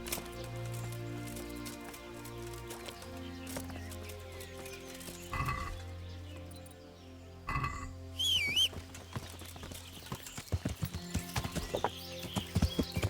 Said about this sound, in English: Gonna ride around on a horse.